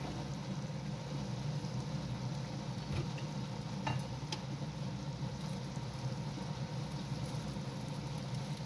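Okra and chicken fry in hot oil for a bhindi gosht curry while garam masala goes in, a steady close sizzle running throughout with a few faint clicks and no talking.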